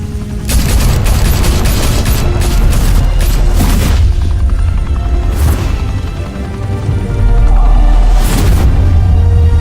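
Gunfire and heavy booms in the Batman Telltale Series game: a dense loud barrage with sharp shot transients over a rumbling low roar, sustained throughout.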